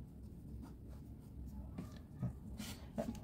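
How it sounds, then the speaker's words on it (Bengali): A pen scratches across paper in short, quick strokes as names are written out while working an accounting math problem, faint and close, over a low background hum. "তাদের নামগুলো লিখব"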